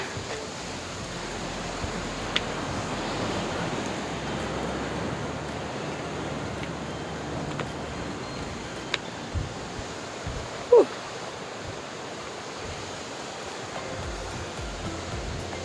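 Continuous rushing surf noise of waves washing on the shore at Klayar Beach, Pacitan, steady and moderately loud, with a few faint clicks and no speech.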